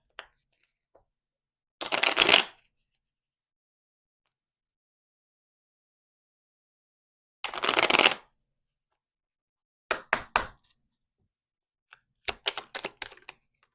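Tarot cards being shuffled in several short bursts separated by silence: two longer riffles, then quicker clustered flicks and taps near the end.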